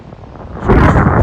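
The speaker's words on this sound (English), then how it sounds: "Whoa, that's windy." A brief gust of wind buffets the microphone, rumbling loud and low and swelling suddenly halfway through.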